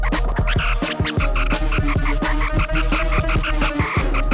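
DJ scratching effect produces a dense buzzing, warbling digital texture like an electronic bumblebee, with rapid rhythmic scratch strokes over a steady beat, loud and continuous without voices.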